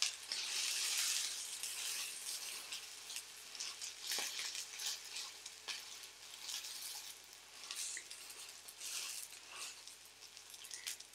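Bacon sizzling in a pan while okonomiyaki cooks, a continuous close hiss and crackle with scattered pops, fairly quiet and steady with no voices.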